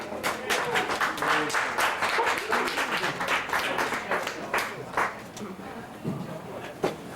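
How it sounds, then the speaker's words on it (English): An audience at a poetry reading in Cafe Espresso Roma applauds a local poet, with dense, steady clapping from a small crowd that thins out toward the end, and voices mixed in. "deserves a big round of applause"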